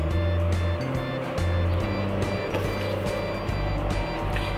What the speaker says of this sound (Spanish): Se escucha ruido porque la calle de afuera de mi casa es una calle donde pasan muchos camiones y autos